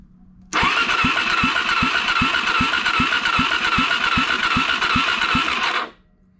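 A Suzuki DRZ400 motorcycle engine with low compression cranks on its starter during a compression test, whirring steadily with rapid, evenly spaced compression pulses for about five seconds before stopping abruptly, close and loud.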